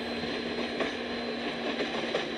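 Simulated train rolling along in Euro Train Simulator, set in Germany: a steady, moderate rumbling hum with a constant tonal whine and faint rhythmic clicks, continuous throughout with no talking.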